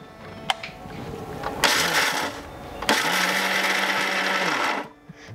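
A mixer grinder grinding sorrel leaf chutney with chili, salt and turmeric whirs in two short loud bursts, a brief pause between them, then stops abruptly; no talking.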